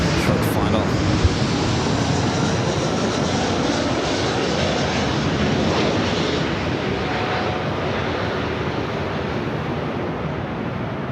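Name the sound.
airliner on short final landing at LAX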